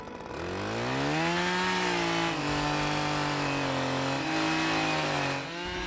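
A Husqvarna petrol garden tool engine runs close by after a primer-and-choke start, its loud buzzing drone rising, holding steady, dipping briefly, then revving again, with no talking.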